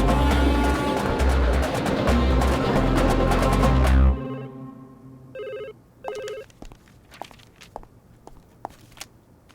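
A telephone rings in two short, bright trilling bursts, moderately loud and near, following a loud stretch of other noise and trailed by scattered faint clicks and taps.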